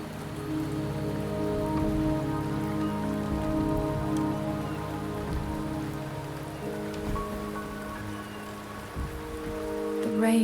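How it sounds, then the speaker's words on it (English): Steady rain falls in the video game Wuthering Waves, a dense even patter on surfaces that continues throughout at moderate loudness, with faint tonal background sounds. "The rain is subsiding, and the sky will soon clear."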